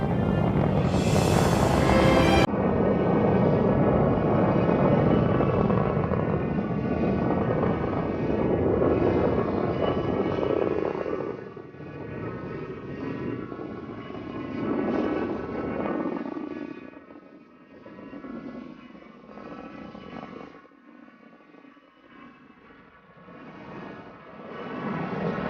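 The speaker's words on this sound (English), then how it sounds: "there's this sort of wall of deep rumbling bass, and you get the sense, wow, now we're really on our way" Rocket launch of the Cassini spacecraft: a loud, sustained wall of deep rumbling roar with a sharp crackling burst at the start, slowly fading and wavering as it recedes, with no talking.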